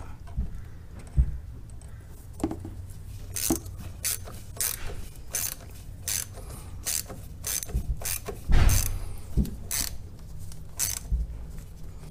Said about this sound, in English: once we get these hose clamps tight